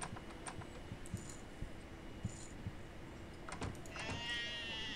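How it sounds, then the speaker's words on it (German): A sheep bleats in the video game Arcanum, a faint, wavering cry near the end over a quiet hiss, with scattered soft keyboard clicks earlier. "Da ist ein Schaf."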